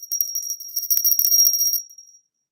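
A small bell rings with a bright, sustained high tinkle for about two seconds, then fades out; no talking over it.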